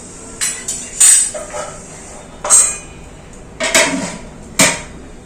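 A metal lid is set onto a cooking pot with a run of sharp clanks and clinks, five or six separate knocks spread over a few seconds, close and fairly loud with no talking.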